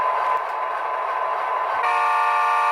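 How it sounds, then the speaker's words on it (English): Horn of an HO scale Athearn SD70ACU model locomotive with a Tsunami 2 DCC sound decoder, a steady multi-tone chord held loud and alone, shifting pitch slightly near the end. "I want you to remember this horn."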